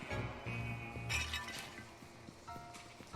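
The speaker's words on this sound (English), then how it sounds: "I'm just smashing everything." Glass breaks and clinks as objects are smashed in the Psychonauts 2 video game, scattered crisp shattering over steady game music and ambience, fairly faint overall.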